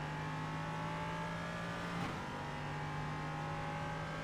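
A Ligier LMP3 race car in the iRacing simulator holds a loud, steady engine drone, briefly dipping pitch mid-clip as the driver lifts and brakes before the revs climb again.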